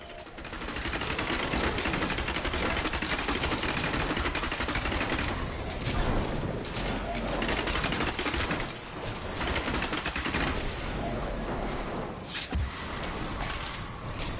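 Player-placed guns fire at waves of enemies in Diablo 3 hardcore mode on PS4, a dense, unbroken barrage of rapid shots that stays loud throughout.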